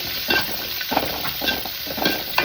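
Crushed garlic and dried red chillies fry in oil over mustard seeds, giving a soft, steady sizzle with occasional stirring scrapes, fairly quiet and close, with no talking.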